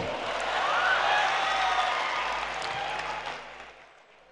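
An audience at a mushaira poetry gathering breaks into a burst of applause. The clapping is dense and fairly loud, then tapers off and fades away within a few seconds.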